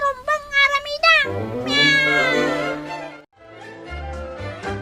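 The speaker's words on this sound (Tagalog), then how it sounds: "Lakay, kitaam dagiti pusa tayo dito'y balay." Cats in a house give several close, clear meows, one after another with short gaps, and a long drawn-out meow in the middle.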